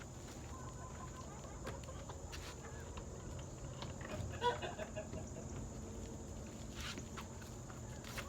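Chickens cluck softly on a farm near the chicken house, faint and scattered under a steady background hum, with occasional footsteps nearby.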